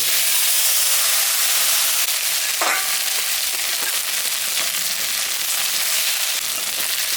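Potatoes fry in hot oil in a home kitchen, a loud continuous hiss and sizzle with a sharp clink of a spoon near the middle and occasional stirring, no voices.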